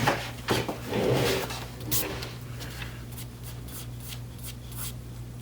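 Pencil drawing a curve on paper, a close scratchy stroke early on followed by a series of short, lighter scraping marks, with a low steady hum underneath.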